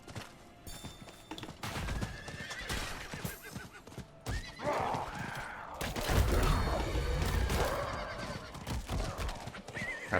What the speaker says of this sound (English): coming through on a horse